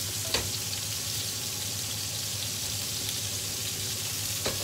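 Meat browning in a hot pan for couscous gives off a continuous, even sizzle and crackle with a low hum beneath and a couple of brief sharper clicks, close by and with no talking.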